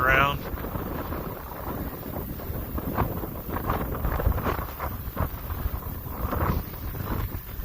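Gusty outdoor wind buffeting the microphone while an Arrows RC Edge 540 model plane is flown, rising and falling in uneven rushes, fairly loud and continuous.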